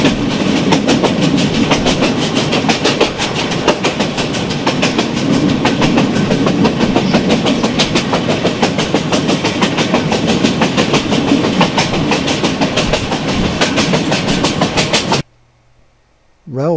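A train in rural Burma runs close past with a loud, steady clickety-clack of wheels over rail joints for about fifteen seconds before the sound cuts off abruptly.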